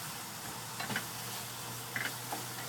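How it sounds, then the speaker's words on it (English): Omelette egg mixture is stirred in a bowl with faint, soft scraping and light clinking taps, quiet and sparse against a low background hum, with no talking. "So, you just take your mixture, give it a bit of a stir around."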